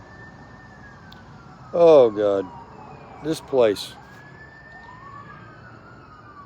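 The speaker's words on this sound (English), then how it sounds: "you hear the sirens?" Several emergency vehicle sirens wail outside, a faint, steady, rising and falling tone in the distance. A person speaks briefly over it in short bursts.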